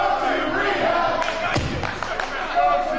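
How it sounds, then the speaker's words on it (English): A live crowd at an independent wrestling show in Spokane roars and jeers at a wrestler, a dense, sustained wall of shouting voices with a few sharp thuds rising through it. "Crowd letting him have it."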